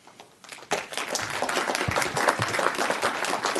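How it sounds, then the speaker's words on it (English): Applause at a public hearing, breaking out after a quiet moment once testimony ends: a roomful of people clapping steadily and fairly loud for several seconds. "Could we ask to not have the applause?"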